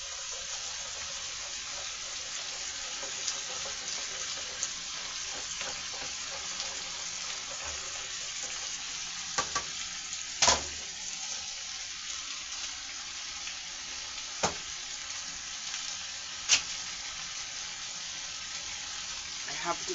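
An egg frying in a pan beside sausage and potatoes gives a steady, soft sizzle throughout, broken by a few sharp clicks and taps. A faint voice is barely present under the cooking noise.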